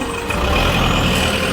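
A loaded truck at a fishermen's outing idles and rumbles close by, with a low engine drone and a hiss of air brakes through the whole stretch and no other sound.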